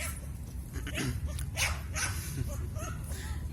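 Dogs barking in a park at a squirrel, several barks and yips scattered over steady low outdoor rumble, moderately close but not loud, with faint talk in the background.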